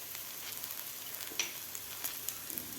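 Garlic-spiced okra fries over a high flame in a pan, a steady close sizzle with light scraping and tapping as it is stirred.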